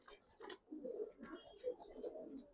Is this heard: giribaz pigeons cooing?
yes